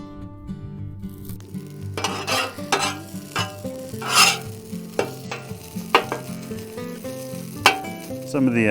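Onions and mushrooms sizzle on a hot Blackstone griddle at a campsite, a steady frying hiss under repeated scraping and clinking of a metal spatula, close and fairly loud throughout.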